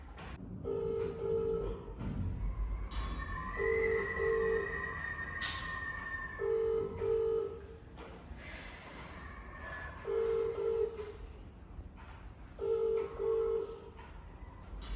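Phone call being placed, with a repeated electronic ringback tone sounding in regular bursts over faint room noise.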